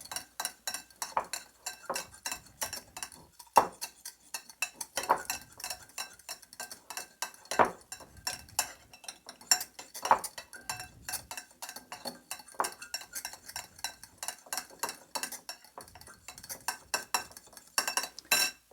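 Cocktail sauce and squeezed lemon are mixed in a bowl, heard as fast repeated clinks and taps of a spoon against the dish, close and fairly quiet, with no one speaking.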